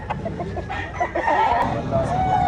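Rooster crowing at a chicken expo in Pinamungajan, Cebu, close and loud over a busy, noisy crowd.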